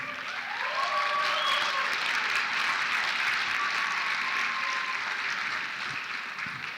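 Audience applause at a college awards ceremony, a steady, moderately loud wash of clapping from a seated crowd that holds evenly and tapers slightly at the end.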